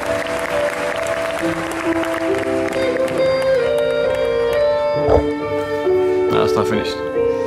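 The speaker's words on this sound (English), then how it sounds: "I have to applaud that one." A listener claps during a performance. The clapping sits under loud music with sustained singing and a talking voice, and thickens toward the end.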